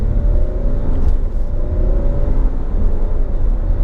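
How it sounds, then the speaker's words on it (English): A 2018 Alfa Romeo Stelvio Ti SUV in dynamic mode pulls hard up a highway on-ramp, heard from inside as a steady, close engine and road rumble with a constant whirring drone. "I'm gonna put it in dynamic, get a little bit more sportiness out of it, and we'll do a little on-ramp pull here"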